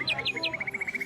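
Outdoors, a bird sings a quick run of bright chirps, first a few rising notes and then a fast evenly spaced trill of repeated tweets, clear and close with no voices.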